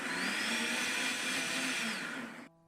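A high-speed blender runs continuously at full power, pureeing chopped spinach and two eggs into a batter with no added water, a loud steady whir that cuts off abruptly near the end.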